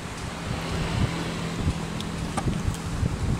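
Strong wind gusting across an open fishing spot by the water, a steady broadband roar with rougher surges and faint surf underneath, no voices.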